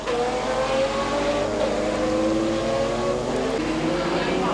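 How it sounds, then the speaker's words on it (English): A Jaguar sports car races at the 1985 Kuala Lumpur 1000km World Sportscar event, its engine a loud, sustained high-pitched howl that climbs and shifts in pitch as it runs past, with a commentator's voice faintly underneath. "There is a Jag, driven now by John Nielsen"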